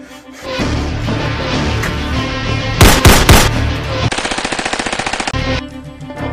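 Close, loud gunfire in a tense home-defense drama scene: heavy background rumble, a couple of sharp powerful shots, then a rapid automatic burst of evenly spaced cracks lasting over a second before it cuts off.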